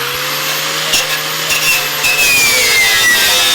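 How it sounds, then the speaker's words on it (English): A wire wheel on a power tool whirs and scrapes against a rusty 1949 Chevrolet car frame, a close, harsh grinding whine that shifts pitch as it bites the metal. "So here we go with the wire wheel"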